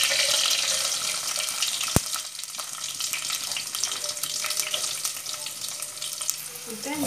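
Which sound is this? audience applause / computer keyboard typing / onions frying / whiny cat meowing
onions frying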